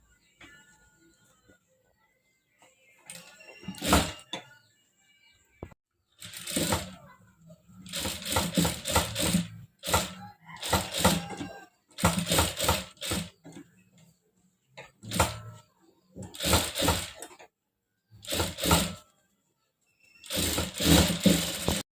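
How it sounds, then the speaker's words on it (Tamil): A sewing machine stitching along the edge of a bridal silk saree blouse back neck, running in short bursts of rapid whirring needle clatter separated by pauses, close and moderately loud. "அப்படியே இதில் ஓரத்தில் தையல் போட்டுக்கணும்"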